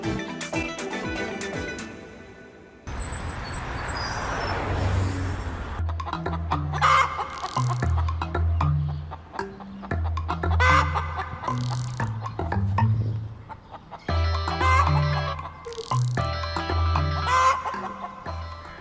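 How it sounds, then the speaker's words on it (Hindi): A rooster clucks and crows in short repeated bursts, close and fairly loud, after a brief stretch of other noise at the start. "लग तो मुर्गा रहा है"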